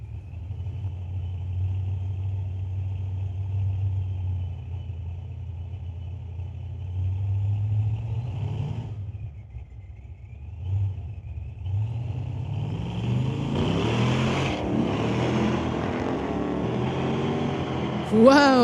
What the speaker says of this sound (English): 1977 Camaro, running a 484, going against Rob McKenzie from Mission in the 1975 Nova, packing a 350 small block Chev